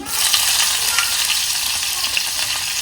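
Garlic fries in hot oil in a kadhai after mustard seeds have crackled, a loud, dense sizzle with faint popping that stays steady for a few seconds.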